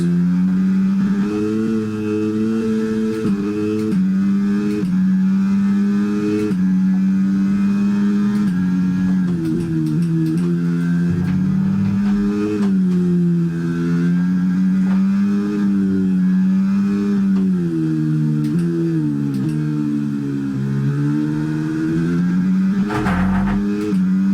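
Engine of an F1 racing car in the F1 23 video game at the Miami Grand Prix, loud and continuous, pitch climbing and dropping through gear changes over a long stretch, with no talk.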